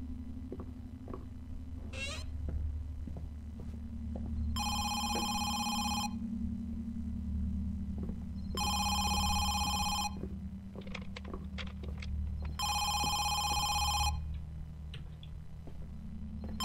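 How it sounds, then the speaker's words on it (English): In the horror video game Home Sweet Home, a telephone rings in three separate long bursts with pauses between them, over a low ambient drone with scattered clicks and ticks. "Can't seem to answer that phone."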